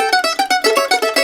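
A short ending lick of the fiddle tune Salt Creek played on a stringed instrument: about ten quick, bright plucked notes in a steady run, close and clear with no talking.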